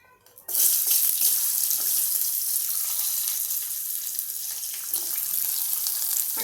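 Shallots hit hot oil already seasoned with asafoetida, roasted fenugreek powder and curry leaves for a Kerala-style shallot sambar, setting off a loud, steady sizzle that starts abruptly and continues alone without talk.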